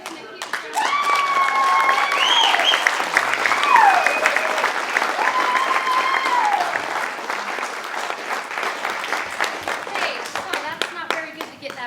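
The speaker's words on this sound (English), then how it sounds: "Give him a huge round." Loud, sustained applause and clapping from a party crowd at a 40th birthday surprise celebration, continuing for about ten seconds, with voices and cheers mixed in over the clapping.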